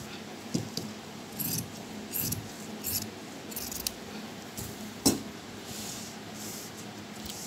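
Scissors snip through fabric while a girls' top is cut out, in a few short, crisp cuts spaced apart over a quiet room background, fairly faint and close.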